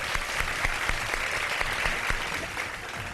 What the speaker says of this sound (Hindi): अब बजाते तालियां एक दफा